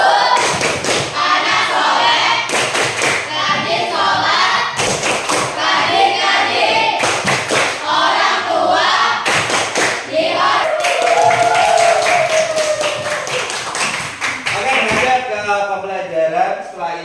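Classroom of students performing the rhythmic 'tepuk anak soleh' clapping chant, sharp unison claps in regular bursts mixed with chanted voices, loud and close throughout.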